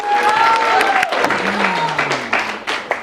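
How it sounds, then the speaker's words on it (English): Lively audience applause at a live late-night theater show, brisk clapping for a festival artistic director, with a few voices and a sliding tone mixed in under the claps. "Give her one more round of applause."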